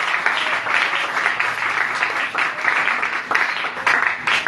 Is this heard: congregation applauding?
yes